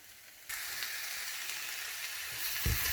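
Choy sum and bean sprouts with cauliflower rice stir-frying in a hot pan, a quiet start giving way to a loud, steady sizzle that swells slightly near the end with a brief low clatter.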